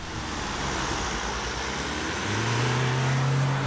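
Car on winter tyres alongside a 4x4 launching side by side from a standstill on snow, a steady broad engine and road roar with a rising drone as they accelerate.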